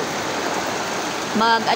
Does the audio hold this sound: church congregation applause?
no